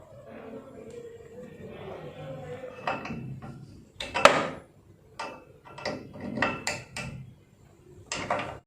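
A spanner tightens bolts while a Decathlon EL 120 cross trainer is assembled, making a string of sharp metallic clicks, clanks and ratcheting taps close by, in short bursts with quiet gaps and a little low talk early on.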